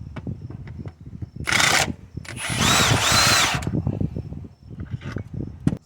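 Power tool spinning out a 17mm motor mount bolt during an engine removal on a 2004–2012 Nissan Murano AWD, heard as two close, whirring bursts between quieter clanks and shop noise.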